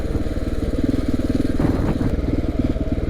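A KTM 690 motorcycle chugging in first gear along a dirt road, its engine a loud, close, rhythmic low thumping that holds steady throughout, with a brief rattle partway through.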